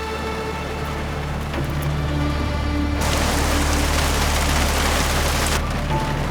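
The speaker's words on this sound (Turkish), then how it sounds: "Çok yağmur yağıyor ıslanırım" Heavy rain pours steadily in a dense, hissing wash that swells louder partway through, with no voices.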